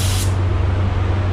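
A spray gun hisses steadily while painting the hood of a Cobra R car, a loud continuous spray that carries on unbroken from start to finish with no talking.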